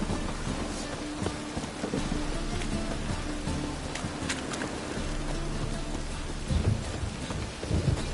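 Heavy rain pours steadily through a thunderstorm in The Witcher game, set around Novigrad, with low rumbling thunder rolling beneath the constant downpour and a brief louder swell near the end.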